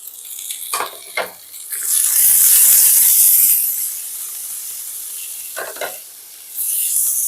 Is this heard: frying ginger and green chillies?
yes